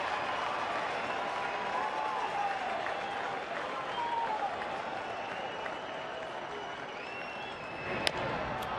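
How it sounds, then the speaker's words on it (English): Crowd of more than 37,000 at a Detroit Tigers baseball game against Colorado, a steady, distant roar of cheering and clapping building throughout, with a brief sharp crack near the end. "Crowd's starting to make some noise now."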